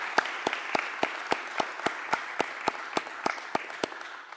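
Rhythmic unison clapping from a city board meeting audience greeting the mayor, a steady beat of about fifteen crisp claps, moderately near and fairly quiet with no talk.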